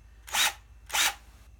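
Two short whirring bursts of a Ryobi 18V cordless drill spinning up and stopping, close by, separated by a brief pause.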